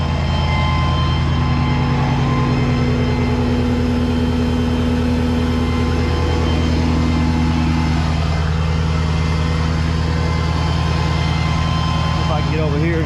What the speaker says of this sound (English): Noise of the trucks